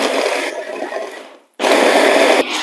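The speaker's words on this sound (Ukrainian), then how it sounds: "сюди шматочки нашого медового бисквіту і будемо все збивати." Blender whirring through pieces of honey sponge cake in two loud, close bursts separated by a brief pause.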